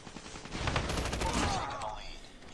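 A gun fires in Call of Duty Mobile, a dense, loud stretch of rapid shots that blurs into a continuous roar before trailing off, with game noise underneath.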